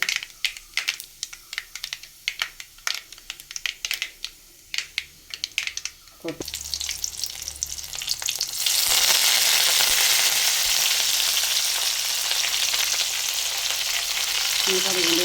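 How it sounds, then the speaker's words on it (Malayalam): Mustard seeds crackle in hot coconut oil for a tomato chutney: a rapid run of sharp, close pops gives way to a loud, continuous hissing sizzle. "നമ്മളിത് കടുക് പൊട്ടിക്കാനായിട്ട് വെളിച്ചെണ്ണ ഇത് ചെയ്തിട്ടുണ്ട്."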